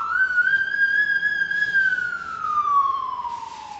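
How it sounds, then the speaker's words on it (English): An ambulance siren wails on a city street corner, one long rising-then-falling tone, loud and near, with traffic rumbling faintly underneath. "And now we have ambulances."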